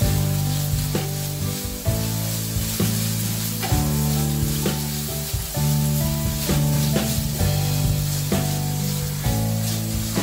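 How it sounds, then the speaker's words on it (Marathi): Finely chopped tomato roasts in a pan for chakolya, giving a continuous close sizzle and hiss with light stirring, all beneath steady background music. "आता हे भाजून झाल्यानंतर यामध्ये टोमॅटो टाकायचं आहे बारीक चिरलेलं। थोडंसं ते पण भाजून घ्यायचं आहे।"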